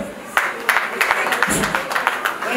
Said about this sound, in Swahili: Hebu mpe makofi